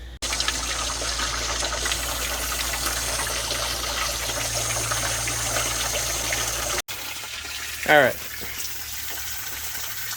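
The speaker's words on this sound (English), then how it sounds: "Nothing but pure water coming out of there now." Water pours steadily and loudly from the coolant system of a 1987 Freightliner cabover truck with a Big Cam Cummins engine during a flush. The rushing flow drops away and someone speaks briefly at the end.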